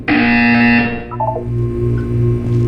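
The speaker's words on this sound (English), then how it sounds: "You will hear a buzzer." A loud, harsh electronic buzz from the video game Portal 2 sounds once, then drops into a lower, wavering hum with a few short tonal blips.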